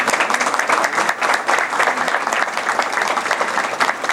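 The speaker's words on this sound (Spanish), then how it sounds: "quisiera un aplauso para él porque es uno de los grandes pintores cubanos" Steady, dense applause from an audience at a lecture on Cuban art, honoring a Cuban painter seated toward the back, many hands clapping continuously and fairly loud throughout with no talking.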